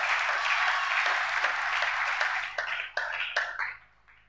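A church congregation applauding together, a dense burst of clapping that stays strong and then thins into scattered claps before fading out.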